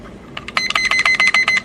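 A physical timer alarm rings in rapid, evenly spaced electronic beeps, loud and close, repeating for over a second.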